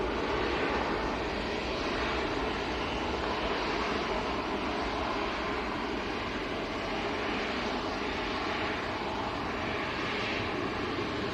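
An airliner's engine drones steadily at Manchester Airport, a broad, loud, unbroken roar with a faint rising and falling whine, heard without talk.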